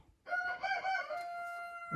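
A rooster crows once in a hen house among laying hens, a loud close call that rises abruptly and holds a drawn-out, tonal final note, with no voices.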